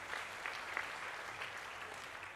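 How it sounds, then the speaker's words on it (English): A crowd at the official opening of the Durban Festival of Chariots claps for a dignitary, a dense spread of hand claps that stays faint and distant for a couple of seconds. "Let's have another round of applause for His Excellency"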